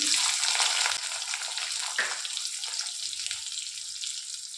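Onions fry in hot mustard oil with a loud, bright, continuous sizzle heard up close, softening slightly after the first second, with a faint tap of a utensil partway through.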